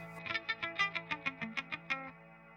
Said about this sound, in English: the pedal will sustain only what you played before you pushed the sustain. It's sustaining me the A chord.